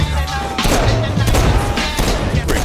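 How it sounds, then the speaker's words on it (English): Gunfire in the video game Saints Row IV, repeated sharp shots in quick bursts with booming impacts, loud and close, layered over game music and effects. "Shooting them only seems to make them multiply."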